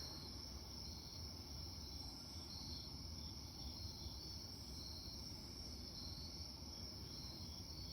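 Steady, dense cricket chorus at night, continuous and moderately loud throughout, with a faint low rumble of passing cars underneath in a quiet outdoor setting among trees.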